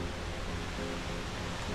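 A waterfall in Colombia roars as a constant, close, broadband rush of falling water, loud and unchanging throughout, with no voices.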